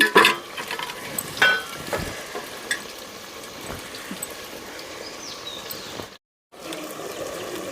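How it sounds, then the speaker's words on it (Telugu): Chopped tomato pieces and fresh curry leaves frying in oil for a raw mango and small fish curry, a soft steady sizzle with occasional stirring clinks, fairly faint and close, briefly cutting out near the end. "కట్ చేసుకున్న టమోటా ముక్కలు పచ్చి కరివేపాకండి వేసి ఆయిల్లో అయితే కాసేపు ఇలా ఫ్రై చేసుకుందాము"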